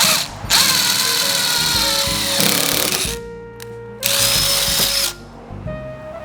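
A power drill bores a 3/16 hole through a car fender for a rivet nut, a loud steady whine in two close bursts with a brief pause between, no talking.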